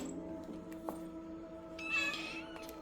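Kittens meowing among a litter of cats, with a brief, moderately loud burst of mewing near the end over a steady low background hum.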